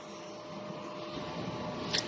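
A DTF printer runs a print-head cleaning cycle, giving a steady, fairly quiet mechanical whir with a short, sharper burst just before the end.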